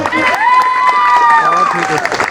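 Applause and cheering for academy students at a celebration, a steady dense clatter of clapping across the whole span with a crowd murmur and a sustained tonal voice or whistle riding over it.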